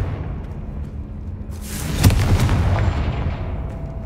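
In the video game Hogwarts Legacy, a Confringo fire spell goes off in a single booming explosion, swelling and then tailing into a rumbling roar.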